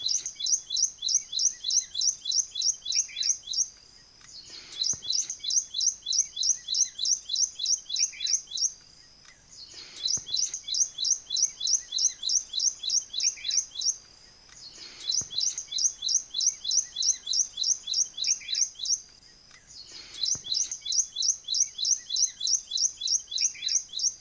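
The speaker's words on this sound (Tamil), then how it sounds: "ஒரு குருவி குஞ்சின் ஒலி எனக்கு கேட்டது." High, rapid chirping, said to come from a sparrow chick, repeats in regular bursts with short pauses, heard through an opened window in the morning, clear and alone.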